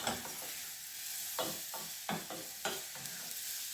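Mushrooms are stirred in garlic butter in a frying pan, a continuous soft sizzle broken by several scraping stirs of the spoon, close and fairly quiet.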